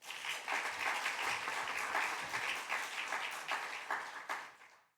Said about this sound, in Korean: 여러분 먼저 환영의 박수 한번 하겠습니다.